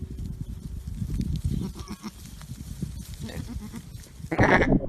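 A goat bleats in several wavering calls over rustling farm background noise, with a louder, nearer bleat at the end; no one speaks.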